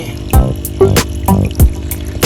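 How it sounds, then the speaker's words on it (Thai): Water splashes and gurgles through a koi pond filter just after the pump is switched on, irregular loud glugging bursts in an uneven rhythm, close by. "น้ำไหลแล้วนะครับ"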